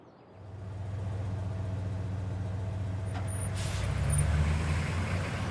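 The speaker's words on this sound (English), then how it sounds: "Ferry bus." A ferry bus in the Life is Strange video game idles and rumbles at a steady mid-low engine drone, with a brief hiss like an air brake near the end and no talking.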